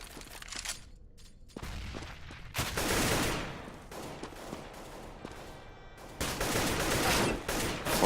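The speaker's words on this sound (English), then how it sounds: "Fox just standing in the open, firing away" Rapid bursts of rifle fire in Counter-Strike during a competitive k1ck versus ACES match, loud clustered volleys and sustained automatic fire in several waves with short gaps between them.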